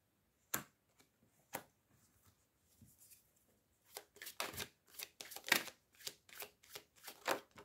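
Playing cards are shuffled and handled for a card reading, with sparse crisp flicks at first, then a denser run of riffling bursts, close and fairly quiet, with no talking.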